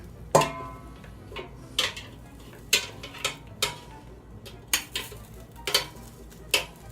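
Pork chops flipped in a pan with sauce, a series of sharp clinks and scrapes of a utensil against the pan, about ten distinct knocks spaced irregularly over a quiet background.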